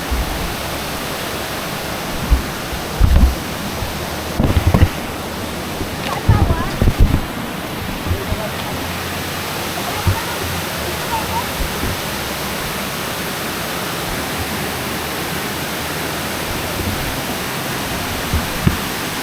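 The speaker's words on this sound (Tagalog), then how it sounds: "Yan ang Bangon Falls?" Bangon Falls waterfall in Samar rushes as a steady broadband roar for the whole stretch, with a few brief voices briefly rising over the continuous water noise.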